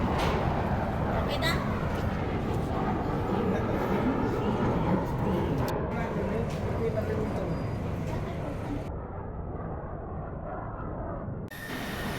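Airport shuttle train at Taipei carrying passengers to the gates, a constant loud rumble and rolling hum filling the cabin, with voices talking over it.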